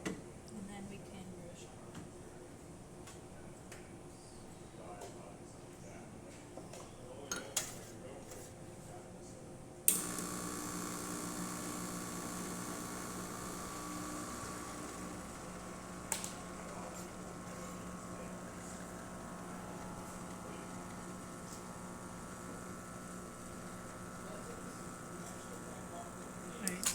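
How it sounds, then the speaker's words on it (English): An ECM Casa V espresso machine hums quietly while pulling a shot. Partway through, the sound steps up into a steady, brighter pump whir with a few soft clicks. "I'll just stop the shot there, just to show you that the machine is working."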